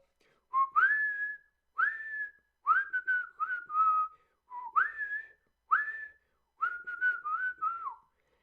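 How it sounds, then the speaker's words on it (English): A pet bird whistles clear rising and falling phrases, about seven short tuneful bursts with pauses between, close and loud in a quiet room. "Did Shadow just expertly whistle?"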